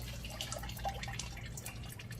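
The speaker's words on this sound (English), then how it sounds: "So you see all that gross water coming out?" Water draining and splattering from a 1998 Lincoln Town Car radiator during a coolant flush, a faint irregular trickle of drips and splashes over a low steady hum.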